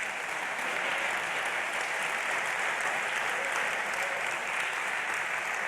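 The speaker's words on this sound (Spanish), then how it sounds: "Dele un fuerte aplauso al Señor." A church congregation breaks into sustained applause, a dense, even wash of many hands clapping that holds steady throughout at moderate distance, with no voices rising above it.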